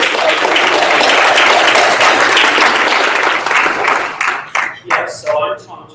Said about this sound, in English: But first, applause for Matthew Lang